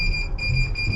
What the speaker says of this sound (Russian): Почему он пищит? Чем-то лифт недоволен.